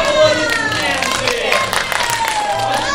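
Crowd clapping and cheering for a circus-style exercise act in an animated cartoon, steady dense applause lasting a few seconds, mixed with tonal music or voices running underneath.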